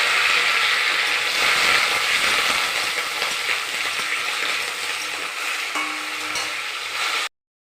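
Papaya frying in oil with fenugreek seeds for a Bengali shukto, a steady loud sizzle with stirring scrapes throughout, close by, with no talking.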